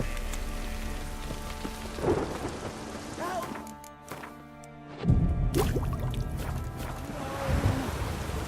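Rain in the video game The Witcher 3, a steady hiss of rainfall with a low rumble of thunder, mixed with game music and sporadic sharp effects.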